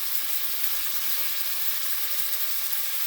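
Beef liver frying in a pot with just enough oil, a steady, fairly loud sizzle holding evenly throughout with no speech.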